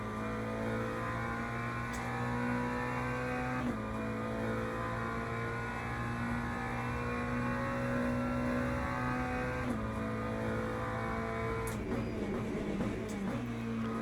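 A GT3 race car engine drones steadily in the Le Mans Ultimate game at Monza, with sustained revving and brief gear-shift dips. A BMW is also on track, and the engine runs alone with no talk.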